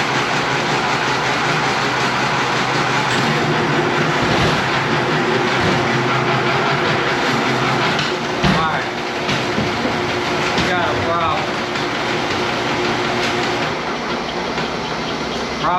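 Copper wire stripping machine with worn, heavily used gears grinding away on aluminum 1000 MCM cable, a loud, steady mechanical roar with rattling bursts throughout, close up.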